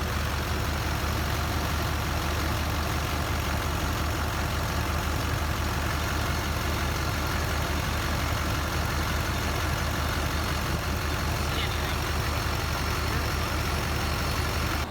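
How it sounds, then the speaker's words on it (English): A Duramax diesel truck engine idles during a blow-by test, a steady low chugging drone with constant loudness and no talking throughout. "you don't have a diesel motor running in the background"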